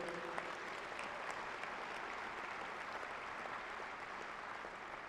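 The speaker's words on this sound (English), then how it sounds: "How about another round of applause for your loved ones here in the center of the Mantera Center." An arena audience at a university commencement in the Banterra Center claps in a sustained round, dense and even, heard from a distance at moderate level.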